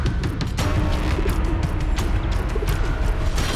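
A pigeon coos inside a Himalayan cave, soft repeated coos with a few chirps over a loud, steady rumbling background that echoes in the enclosed space.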